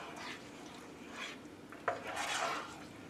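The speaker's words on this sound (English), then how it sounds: "give this a stir" Spoon stirring peach oatmeal with pecans inside a Ninja 4-in-1 cooker pot, a few soft scraping and clinking strokes against the pot with one sharper knock near the middle, close and fairly quiet.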